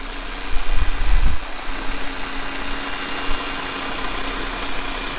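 A car engine idles steadily after an oil change, a low, constant close-up hum with a slightly louder rumble in the first second or so and no talking.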